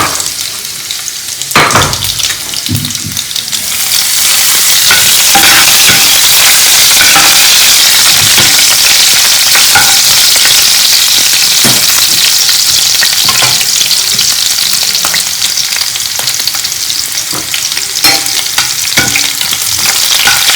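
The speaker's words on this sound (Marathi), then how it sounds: "तर लसूण इथे क्रिस्पी तळलेला आहे एकदम." Garlic fries crisp in hot oil with a loud, steady sizzle and crackle, broken by occasional knocks and scrapes of a spoon stirring in the pan.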